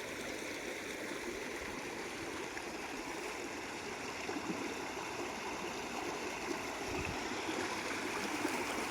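The Krishna river flows in a steady, continuous rush of moving water, with broad even noise and no talk.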